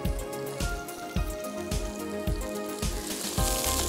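Onions fry in a pan with whole garam masala and shahi jeera, giving a quiet, steady sizzle broken by a regular series of soft knocks, probably stirring.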